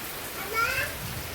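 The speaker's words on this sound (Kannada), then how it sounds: "ಜಸ್ಟ್ ಜೋರು ಮಳೆ ಬರ್ತಾ ಉಂಟು" Heavy monsoon rain pours down in Udupi in a dense, steady hiss that fills the whole moment without letting up.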